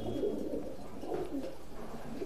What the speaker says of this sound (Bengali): এই পেয়ার হচ্ছে কেটিএম কবুতর